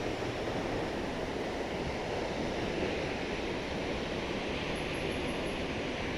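Tad Fan waterfall near Paksong, Laos, pours in a constant, dense roar of rushing water that stays even and steady throughout, with no voices over it.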